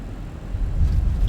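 A Fenix A320 touching down on the runway in a flight simulator, a short deep rumble that swells as the wheels meet the ground and then holds steady, with no voices.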